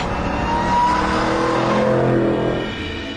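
Supercharged 6-litre V8 of a Vauxhall Monaro VXR 500 with nearly 500 bhp, droning steadily and loudly throughout with a smooth, sustained engine roar and slight pitch shifts, no voices present.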